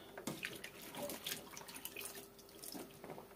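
Okra being washed under running water in a kitchen, with a steady splashing stream and light knocks and sloshes throughout, close and fairly quiet.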